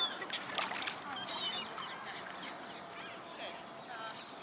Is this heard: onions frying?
no